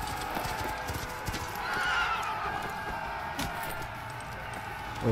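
Horse hooves clip-clopping at a gallop with a neigh rising mid-way in the video game Sons of Valhalla, set against a dense, loud battle-like background wash.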